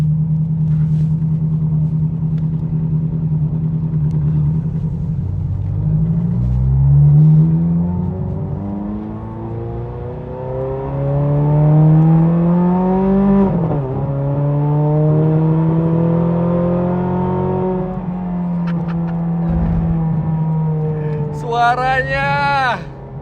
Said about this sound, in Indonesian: salah satu Ferrari paling langka nih saya mau bawa ke jalan nih